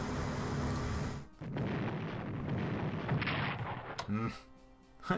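Battleship guns fire in a naval strategy video game, a dense rumbling barrage of booms that swells and dips, ending in a sharper pair of bursts near the close.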